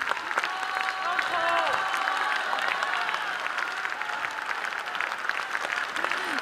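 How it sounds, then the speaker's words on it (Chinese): Sustained audience applause fills a concert hall after a 2009 annual performance by a Chinese traditional orchestra and drum troupe, dense and steady throughout, with a few voices and cheers mixed into the crowd. "我们再热烈掌声感谢我们邱长风邱老师以及我们重振鼓乐团所为我们带来这么精彩的演出。"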